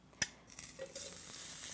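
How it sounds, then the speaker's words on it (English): Butter sizzling in a hot pan while cooking Thai-style breakfast pan eggs, opening with a sharp clink, then a soft, steady frying hiss building and holding, fairly quiet with no talk. "The butter goes in, the butter should start to sizzle."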